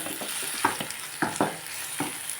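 Chopped tomatoes frying in a pan with a steady close sizzle, broken by a series of scraping stirs from a spoon at an irregular rhythm, with no talking.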